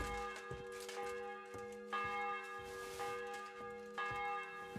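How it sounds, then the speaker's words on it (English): A church bell in Kingdom Come: Deliverance 2 tolls steadily with repeated strikes roughly every second, each leaving a long ringing hum that overlaps the next. "The bell's ringing for Hans the 5th time."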